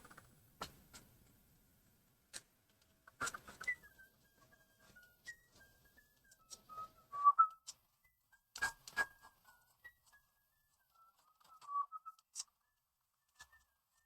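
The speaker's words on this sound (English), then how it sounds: "Okay, maybe I should stop whistling." A person whistles a meandering, lilting tune while drawing fashion sketches, soft and fairly close, broken by sparse dry taps and clicks from the drawing work.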